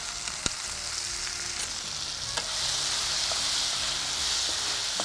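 Brinjal and tomato sauté in a pan, a continuous broad sizzling hiss with occasional sharp clicks of a utensil stirring, steady and close, with no voices.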